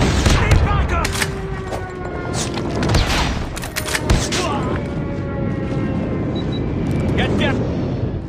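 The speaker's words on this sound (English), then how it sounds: "Enemy airstrike incoming." Call of Duty Mobile multiplayer match with an enemy airstrike: booming explosions and bursts of gunfire mixed with game voice callouts, dense and loud throughout.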